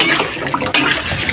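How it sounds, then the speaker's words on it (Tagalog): A small amount of water splashes and pours into a cooking pot in a home kitchen, a brief close rushing sound with no voices. "lagyan natin ng konting tubig para magkasabaw naman siya"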